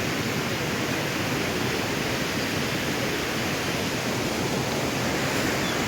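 Steady, loud roar of a rain-swollen forest waterfall in Nelliyampathy, a dense, unbroken rush of falling water that fills the scene.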